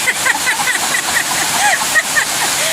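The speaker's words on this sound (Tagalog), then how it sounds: "Ulan na!" Heavy rain pours down in a steady, loud broadband hiss like rushing water, with voices talking over it throughout.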